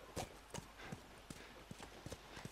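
Horse hooves clip-clopping in The Last of Us on PS4, a steady series of sharp, evenly spaced footfalls close up, heard alone without talk.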